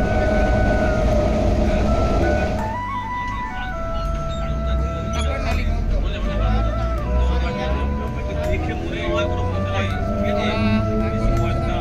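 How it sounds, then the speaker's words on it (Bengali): A passenger train pulls out of Bahirganj station toward Kaikala on the Tarakeswar line, with a loud rolling rumble, wheel noise and drawn-out metallic tones, plus faint passenger chatter in the background. "আমাদের ট্রেন বাহিরগঞ্জ স্টেশন ছেড়ে এগিয়ে চলল"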